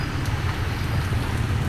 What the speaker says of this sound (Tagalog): Ayan, umuulan na nga dito.